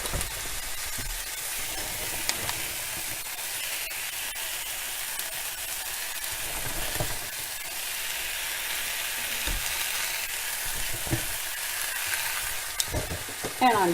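Baby spinach sizzles and crackles steadily in a hot pan for a vegan pasta dish, a continuous close hiss with occasional light stirring noises.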